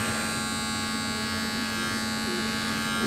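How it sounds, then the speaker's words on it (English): A steady, close electric hair trimmer buzzing continuously with a constant high-pitched whine at a barbershop, trimming a beard on the cheeks, no voices. "I'm taking the trimmer straight down to those areas"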